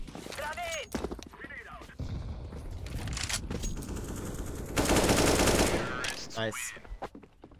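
Rapid bursts of AK rifle fire in CS:GO on the Cache map, loud and close, with rattling volleys and a heavy sustained stretch near the end, mixed with game effects and players talking.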